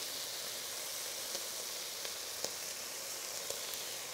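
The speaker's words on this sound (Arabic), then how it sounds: "نقلي هذوك التوابل مع هذاك الشامبينيون وهذاك البصل" Spices, mushrooms and onion frying in a pan for mushroom soup, a steady even sizzle and hiss close by with occasional faint clicks and pops, no talking.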